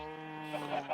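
A single short sheep bleat from a blocky sandbox video game, a brief wavering tonal cry that breaks into a quick tremolo toward its end, fairly quiet and heard alone.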